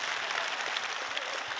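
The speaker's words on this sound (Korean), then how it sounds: "할렐루야 박수 치려면 크게 치시고" Loud, dense clapping from a church congregation at a Friday Holy Spirit worship gathering, many hands beating together in a continuous wash of applause.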